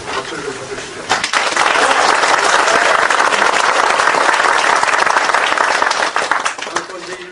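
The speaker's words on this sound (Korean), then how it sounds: "동의를 해주신다면 박수를 좀 쳐주시죠." Crowd applause at a Seoul city chapter founding convention of the Progressive Justice Party, approving party rules; a talking voice leads into a sudden loud burst of clapping that holds strongly and then begins to ease off.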